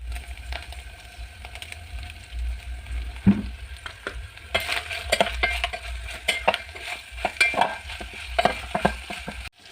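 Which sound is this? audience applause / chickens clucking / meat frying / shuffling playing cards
meat frying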